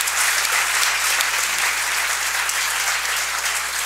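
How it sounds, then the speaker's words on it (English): A room of attendees at a Sustainable Business Council event gives sustained applause for a panel, a thick, even roar of clapping that holds at full strength throughout. "if everybody could give these guys a round of applause for their insights"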